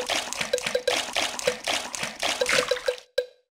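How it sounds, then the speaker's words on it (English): Cartoon water splashing from swimming characters in a Peppa Pig pool race game on iOS, a run of quick repeated splashy bursts close up, ending in a short final splash. "Peppa and George love splashing in the pool."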